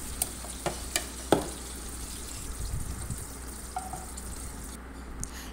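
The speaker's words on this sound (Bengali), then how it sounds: "চিংড়ি মাছগুলোকে আমি হালকা করে ভেজে নিয়েছি।" Prawns frying in hot oil in a wok, a soft, steady sizzle up close with several distinct spatula clicks and a brief scrape, no one speaking.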